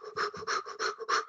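A person imitates a dog's panting, demonstrating the quick breathing used to keep from pushing during labour contractions: about six rapid, rhythmic breathy pants, close and fairly loud, with no other sound.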